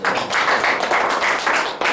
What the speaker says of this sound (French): Acclamation pour le Seigneur.